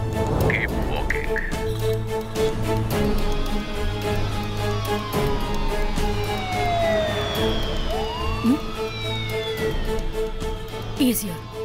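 An ambulance siren sweeps past in a busy street scene, a rising and falling wail cutting through steady traffic noise and a loud low rhythmic music bed, with talk nearby.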